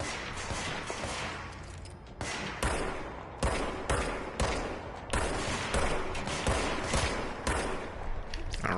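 Enemies in the action game Control fire their guns, producing dense, continuous volleys of rapid shots with sharp bursts that keep restarting.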